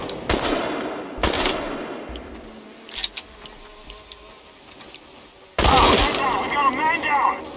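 Gunfire in the video game Chernobylite comes in sharp loud bursts, two early, a small cluster mid-way and a longer heavy volley near the end, with a player's voice talking between them.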